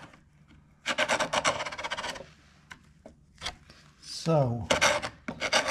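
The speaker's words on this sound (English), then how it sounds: "Well, I can just scrape it off." Several layers of old finish being scraped from a 75-year-old wooden window frame, a repeated rasping scrape in close bursts with brief pauses, and a short spoken word near the start.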